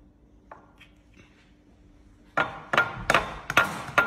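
Eggs being cracked for pancakes, a few sharp, close cracking taps on a hard edge in quick succession after quieter handling sounds.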